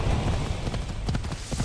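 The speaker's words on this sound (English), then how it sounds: "I'm very happy with the control of the horse." Horse hooves clip-clopping in the video game Assassin's Creed Odyssey, a quick, loud, rhythmic run of hoof strikes over a busy game soundscape.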